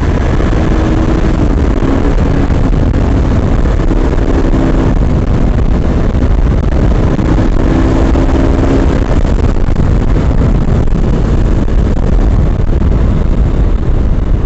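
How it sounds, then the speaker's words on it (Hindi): A motorcycle being ridden at speed gives a loud, continuous engine roar mixed with heavy wind buffeting across the microphone, sustained without a break from start to finish. "तुम्हारा भाई बिल्कुल रेडी है बाइक भगाने के लिए"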